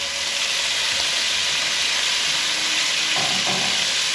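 Shredded cabbage fries in hot bacon grease in a pan, giving a steady, close, loud sizzle and hiss with no break and no talking.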